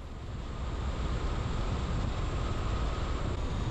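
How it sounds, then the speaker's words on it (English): Steady wind buffets the microphone, a constant low roar with a faint car hum underneath, no voices, driving Highway 60 through Arizona's Salt River Canyon. "Pretty windy through here."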